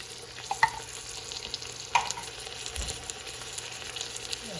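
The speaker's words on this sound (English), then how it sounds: "Stir this up and let it heat." Tomato paste sizzles softly in a pot on the stove as a base for oxtail stew, with a steady quiet fry and a few scraping stirs and clinks of a spoon against the pot.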